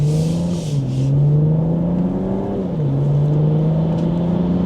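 A 2026 BMW M440i Gran Coupe accelerates hard in sport mode, its engine droning loud and close with a climbing pitch and a couple of gear shifts dropping the tone before it rises again.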